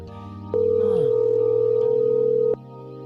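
An unanswered phone call sounds one loud, steady ring tone lasting about two seconds over a low, constant hum, then cuts off abruptly.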